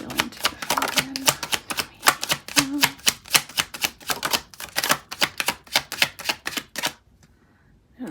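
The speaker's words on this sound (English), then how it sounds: "There are 98 cards, so I split the deck in half to shuffle." A split deck of 98 cards being riffle-shuffled: a rapid, dense run of sharp clicking flutters lasting about seven seconds, close and fairly loud, then stopping abruptly into near silence.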